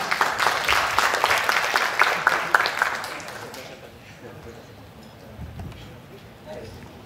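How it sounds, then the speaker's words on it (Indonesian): A seminar audience at a national dialogue event claps in warm, dense applause that holds for a few seconds, then thins and fades into quiet room tone. "Kita berikan tepuk tangannya."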